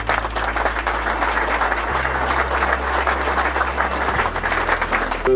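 Indoor audience applause at a press event, a dense, even clapping from many hands that holds steady for several seconds with a low hum underneath.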